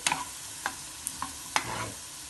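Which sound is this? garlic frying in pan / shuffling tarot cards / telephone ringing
garlic frying in pan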